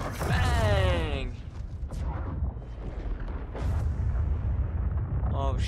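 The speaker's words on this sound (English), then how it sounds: "he just blew up the whole army" Deep booming blasts and rumbling explosions from the Mortal Kombat 11 video game story mode as an entire army is blown up, loud and layered with game voices and effects.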